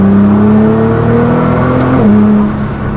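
A Nissan GT-R with a Stage 2 tune accelerating hard in third gear, engine roaring loud and close with a steadily climbing pitch, a brief dip near the end as the throttle eases.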